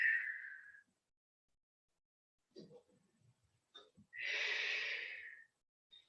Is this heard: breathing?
yes